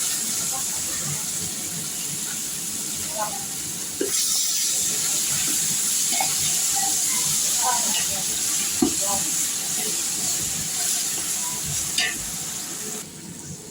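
Ginger garlic paste hits fried onions in a pan of oil for chicken biryani, a sudden surge of bright hissing sizzle with intermittent clinks and stirring scrapes, steady and close throughout.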